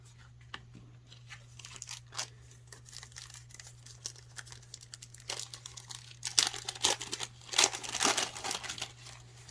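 Foil wrappers of 1989 Pro Set football card packs being torn and crinkled open, quiet scattered rips at first building to louder, denser crackling bursts near the end, with a steady low hum underneath.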